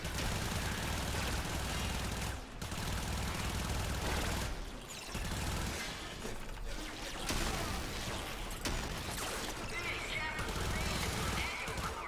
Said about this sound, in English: this gun, it's pretty sweet. Yeah, Soma Prime, but it's got a pretty long reload speed